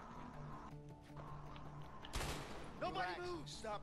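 Gunfire in the video game A Way Out, a sudden loud burst of rapid shots amid game sound, followed by a voice speaking over the noise.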